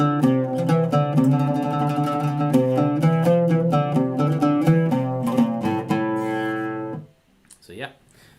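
An instrument plays rapid tremolo and trill ornaments, a dense, fast-repeating run of pitched notes held at steady loudness for about seven seconds, then cut off and followed by brief, faint speech.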